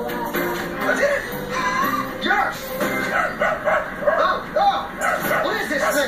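A dog barks in short repeated yips mixed with whimpering whines, close by and fairly loud, with people talking over it throughout.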